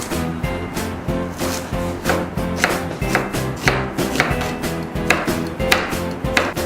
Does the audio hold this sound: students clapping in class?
no